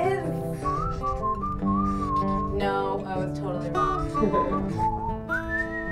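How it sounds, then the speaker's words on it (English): Someone whistles a lilting melody with clear sustained notes and gliding pitch, as a person speaks briefly over it. "I like the whistling."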